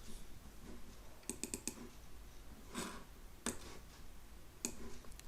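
A computer mouse clicks several times in a quiet room: a quick cluster of three or four sharp clicks, then single clicks spaced a second or so apart, close and crisp over faint background hiss.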